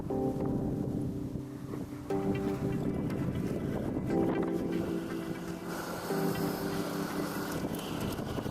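Gusty wind buffets loudly across an open outdoor space near a pond on a cold day, roaring against the microphone with steady low rumble and brief surges.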